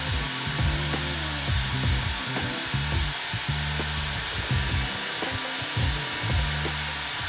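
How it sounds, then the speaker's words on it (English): Steady whirring of a power sander on a wood veneer tabletop, with rhythmic dips and swells as it passes back and forth across the surface, no talking. "We're almost done sanding this top"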